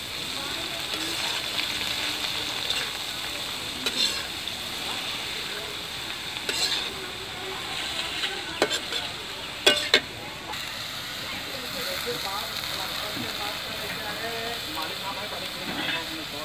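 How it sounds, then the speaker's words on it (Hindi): Mustard and chickpea greens hit a hot tempering of garlic, green chili and asafoetida, giving a steady, soft hissing sizzle throughout with a few brief clicks and knocks. "हमारे लहसुन, मिर्चा, हींग का तड़का लगा लिया है। अब इसमें डाल देती हूँ"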